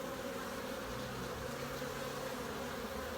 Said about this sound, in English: the bees are still reasonably busy